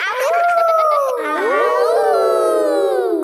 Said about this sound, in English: That's what wolves do. We howl at the moon.